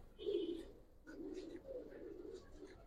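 Giribaz pigeons coo in a fancier's collection, two clear rolling coo phrases close by, the second longer and slightly wavering, with faint background noise.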